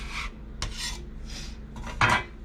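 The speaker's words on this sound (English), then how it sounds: "I have one of these, it's called a bench scrape. It helps really well to get under and lift if it's sticking to the table." A metal bench scraper rasping across a floured table to lift stuck dough, several separate short scrapes, close by, with a sharper stroke near the end.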